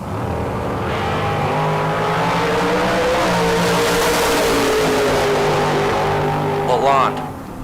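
Camaro and Corvette launching side by side in a bracket drag race, a loud sustained engine roar that swells and holds, with an announcer talking over it and a brief rising rev near the end.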